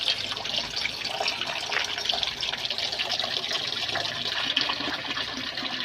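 Water pours and gushes steadily into a container of mung bean sprouts, a continuous splashing flow at close range with no talking.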